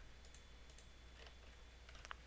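Keys on a computer keyboard tapped in a few short, quiet bursts of clicks over a faint steady hum, close up, with no voice.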